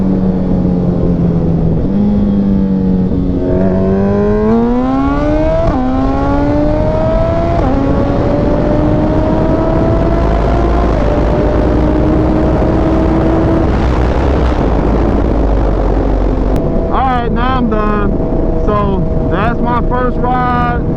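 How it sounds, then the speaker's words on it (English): A 2022 Suzuki Hayabusa fitted with a Brocks Pentacarbon exhaust pulls wide open, its loud engine note rising in pitch through several gear changes, with heavy wind rush over the microphone. "First ride review and first wide open to let you guys hear the exhaust. And yeah, that's the Brocks Pentacarbon"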